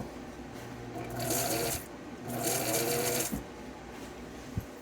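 A Bernina Record 7 sewing machine, controlled by a knee lever, runs in two steady stitching bursts of about a second each, a close mechanical whirr with a faint hum and a click between.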